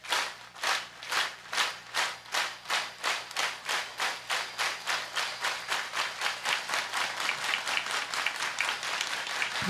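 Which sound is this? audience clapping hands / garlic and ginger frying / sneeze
audience clapping hands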